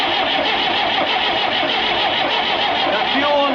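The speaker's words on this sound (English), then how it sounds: "We're gonna crank this thing over. Hopefully we'll purge the air out of here." A fuel-injected engine cranks over steadily on its starter with no firing, a continuous close mechanical whir holding at even loudness, with air being purged from the injector lines.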